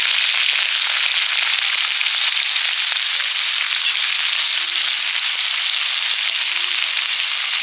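Onions hit a very hot wok over an earthen stove in an open field, giving a loud, steady, hissing sizzle that fills the whole stretch without pause.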